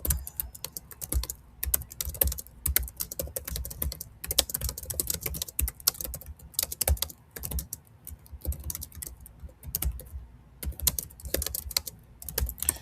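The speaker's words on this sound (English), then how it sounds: "I'm going to type this and then read it" Steady, fast clatter of keys on a computer keyboard, continuous with brief pauses, close and fairly quiet, no voices.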